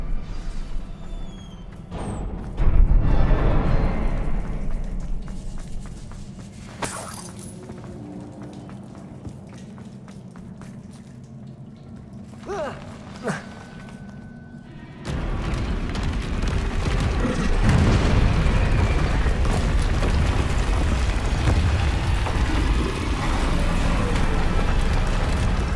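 Confringo, an explosive fire spell in the Hogwarts Legacy video game, goes off with a loud booming blast, followed by a rumbling roar of fire and debris that keeps going behind the game's action.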